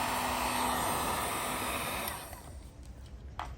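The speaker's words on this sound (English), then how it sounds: "Using a heat gun, of course, so you can see" A heat gun blows hot air to peel protective film off a Porsche 911 Carrera 4 996 headlight, a steady close whooshing roar that cuts off after about two seconds, leaving a faint quieter hiss.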